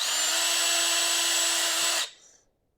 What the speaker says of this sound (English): actually I'll drill the one beside it